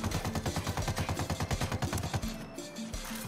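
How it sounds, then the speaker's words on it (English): Automatic gunfire in the Ghost Recon video game, aimed at a vehicle: a rapid, evenly spaced burst of loud, close shots lasting about two seconds, then an abrupt stop into quieter background. "I stopped the vehicle by just shooting at it."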